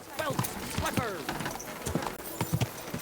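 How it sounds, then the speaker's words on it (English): Horse hooves trot steadily in Kingdom Come: Deliverance II, a rapid, even clip-clop rhythm running throughout, up close and fairly loud against game ambience. "I'm going by horse."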